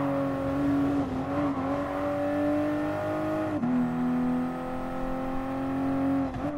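A BMW-based Supra with an 8-speed automatic, driven in Gran Turismo Sport, holds a loud, steady engine drone whose pitch climbs gradually and drops sharply at a gear change midway.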